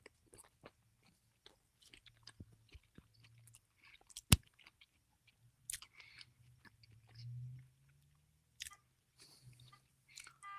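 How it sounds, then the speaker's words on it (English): Someone chews and bites into a hot dog with a jalapeño or chile while watching a baseball game, producing soft, irregular crunching and mouth sounds, close and quiet, with no talk over it. "Hot dogs going in my mouth."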